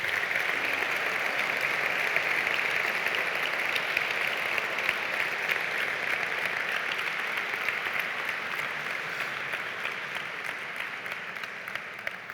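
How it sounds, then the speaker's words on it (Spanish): A ceremony audience for World Pharmacists' Day 2025 claps in sustained, dense applause that holds steady for the whole stretch and eases off only slightly at the end. "Un fuerte aplauso para todos ellos."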